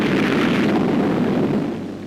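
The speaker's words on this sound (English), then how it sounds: "From rocky positions, enemy mortars shell our landing barges." Enemy mortar shells exploding around landing barges during the 1945 Battle of Iwo Jima, heard as a loud, sustained roar of blasts and rumbling fire that fades out near the end, with no voices.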